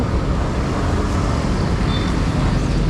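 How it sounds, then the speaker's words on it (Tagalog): Loud motorcycles, some likely with modified mufflers, pass in city traffic near Rizal Park in Manila. A dense, continuous roar of engines and road noise fills the whole stretch with no pauses. "mga motor na may ingay."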